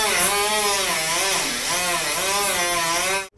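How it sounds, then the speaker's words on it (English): An angle grinder whines steadily as it grinds down welded-over pinholes on a rusty steel car rocker panel, a loud, close, continuous tone that wavers in pitch, then cuts off abruptly at the end. "Now I'm just gonna go through all these pinholes, fill them up, grind them down, and be done with this side."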